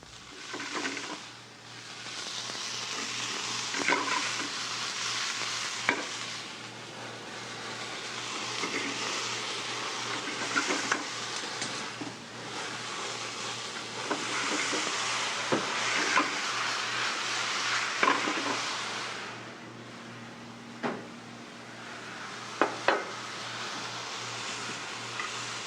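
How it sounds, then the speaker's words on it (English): Broccoli and other vegetables stir-frying over high heat on a grill give a steady loud sizzle with occasional sharp clatters and scrapes of a utensil, no talk. "Note he is almost using stir-fry technique with the veggies."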